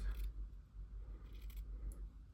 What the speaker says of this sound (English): Just kind of go down, cut it in half.